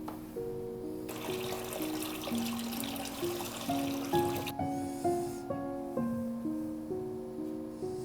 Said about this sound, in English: I should mention I'm also changing the water real quick.